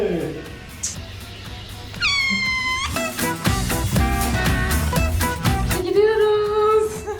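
A young kitten gives a few drawn-out meows in short bursts, close by, mixed in among people talking in a home setting.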